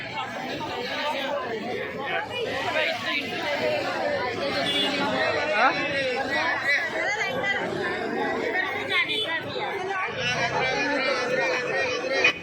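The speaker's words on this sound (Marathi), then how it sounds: "आज खूपच गर्दी आहे. आज शनिवार आहे त्याच्यामुळं गर्दी खूप आहे." A large, dense crowd at Trimbakeshwar temple on a busy Saturday, with continuous chatter and babble from many voices filling the space evenly and steadily from start to finish.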